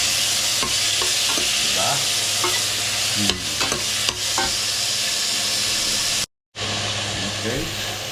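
Tomatoes fry with pork tail in a pan, giving a loud, continuous sizzle broken by stirring scrapes and one brief drop to silence, while a voice speaks briefly over it.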